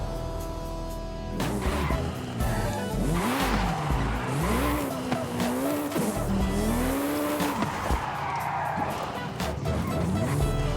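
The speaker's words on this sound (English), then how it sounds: "Here's a Jaguar. I wonder how fast this thing is." A Jaguar driven in Forza Horizon 5, its engine revving up and down in rising and falling sweeps with tire squeal and skidding, loud and close throughout.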